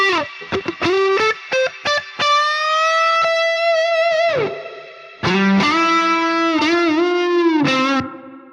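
A distorted synth melody plays in short stabs, then long sustained notes, with a shimmering reverb tail applied from 1.5 kHz upward on the bright upper range.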